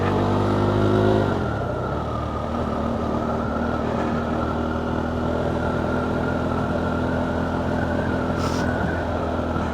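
KTM 390 Duke motorcycle engine during riding drills on a foggy morning, a loud close revving drone that drops from a higher-pitched rev in the first second to a steady, slightly uneven running note.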